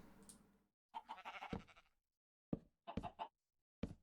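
Minecraft sheep bleat in short, bright bursts: one wavering call, then several quick clipped bleats separated by brief silences, close and clear with no talk.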